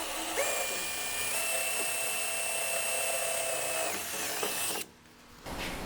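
A power drill drills out rivets along the bottom of a C1 XL floor, giving a close, steady high-pitched whine with small pitch steps for about five seconds before it stops abruptly.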